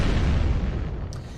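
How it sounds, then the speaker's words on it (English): Explosions in the video game Purgatory, a loud, dense, continuous rumbling roar that fills the low end and fades slightly toward the end. "A series of explosions destroyed the entrance where we escaped"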